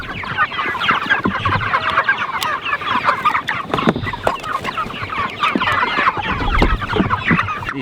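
A Cornish cross chicken raised on pasture clucks repeatedly up close while being weighed on a scale, busy irregular clucks and squawks running the whole time with no talk.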